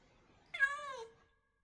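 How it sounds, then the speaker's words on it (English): A single clear cat meow from the Minecraft modpack ATM9 Skyblock, a drawn-out tonal call lasting about half a second, fairly close and alone without talk. "Yes, I hear you, kitty."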